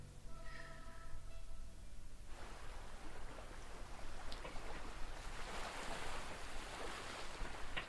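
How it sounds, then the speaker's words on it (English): Surf from a video game crashes against a shore. A soft melodic tone fades out, then a steady, broad, roaring wash of waves takes over and continues loudly to the end. "I heard the sound of waves crashing against the shore."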